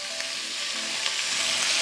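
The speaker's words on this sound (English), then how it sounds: "let's just go ahead and add our ground beef" Ground beef sizzles steadily in a hot pan for spaghetti sauce, a continuous close frying hiss with faint stirring, no voices.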